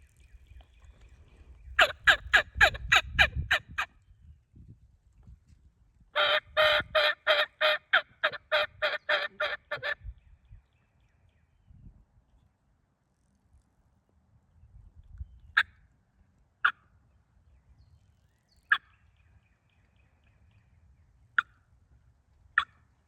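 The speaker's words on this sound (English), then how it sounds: "This is my first time using a mouth call." A hunter's turkey mouth call gives two bursts of rapid raspy yelps, loud and close, followed by several sparse single sharp clucks with quiet pauses between them in an outdoor setting.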